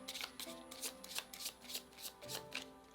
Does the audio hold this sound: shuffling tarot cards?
yes